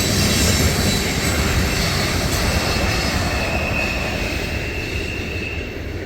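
A CSX ethanol-loaded freight train rolls past at a crossing with a loud, continuous roar of wheels and rail noise, steady and close, fading slightly at the end as the last car goes by.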